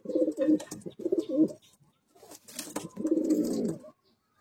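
A breeding pair of pigeons coos close by in repeated throaty bursts, three rolling phrases separated by short pauses, with no talking.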